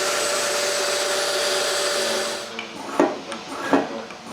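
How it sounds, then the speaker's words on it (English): A power tool bores an interior mortise in wooden bookcase stock, a steady high whine for a couple of seconds that stops, then a few knocks and rubbing handling sounds nearby. "I drill the interior mortise."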